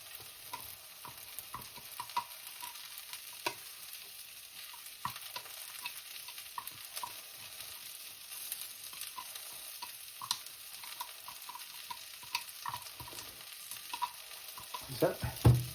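Garlic and ginger frying in oil in a pan, a soft continuous sizzle with scattered scrapes and taps of stirring, quiet and close.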